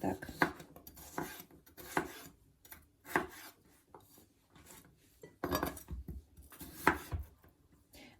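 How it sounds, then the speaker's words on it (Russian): A knife chops through potatoes on a board in quick irregular bursts of sharp knocks, close and fairly quiet, with faint kitchen clatter. "Нарезаем весь картофель."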